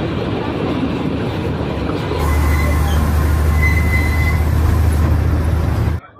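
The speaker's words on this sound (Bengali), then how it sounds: "এই হচ্ছে আজকের আমাদের বাহন এনজিপি অবধি 52541 এনজিপি দার্জিলিং প্যাসেঞ্জার স্পেশাল।" The 52541 NJP–Darjeeling passenger special toy train rumbles along from inside, a loud steady drone of wheels on rail that swells partway through, with faint squealing tones and no talk.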